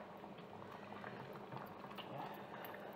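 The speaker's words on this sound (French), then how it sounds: "On va laisser mijoter comme ça" Snails in tomato sauce simmering in a pot, a steady soft bubbling and popping of boiling sauce, continuous and close.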